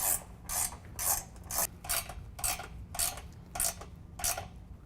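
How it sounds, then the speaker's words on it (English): A 13mm ratchet tightens bolts into the rocker panel of a Ford F-250/F-350 Super Duty during a hoop step install, giving about nine short bursts of rapid clicking in a steady rhythm, close up and alone. "go ahead and tighten down the bolts going into the rocker panel, also with 13mm"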